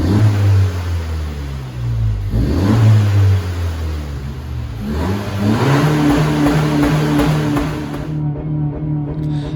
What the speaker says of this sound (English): I prefer the sound of this car.